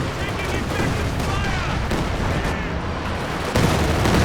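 Rockets and gunfire from Company of Heroes 2, a dense continuous barrage of shots and blasts with rumbling battle noise throughout, loud and steady.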